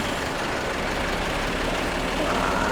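Bus with Rumah Gadang livery idling at Kampung Rambutan terminal, a steady low engine rumble filling the whole stretch without pause.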